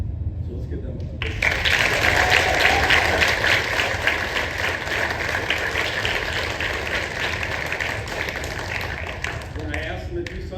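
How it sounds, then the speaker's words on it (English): Applause breaks out abruptly and continues steadily as a crowd at a school event claps, loud and close, with a voice faintly heard near the end. "deserve a big, big round of applause for getting our school looking well"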